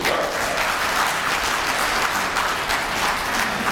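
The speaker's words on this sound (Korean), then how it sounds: "박수 부탁드리겠습니다." Dense, continuous applause from an audience after a lecture on employment and self-employed workers, loud and even throughout with no talking over it.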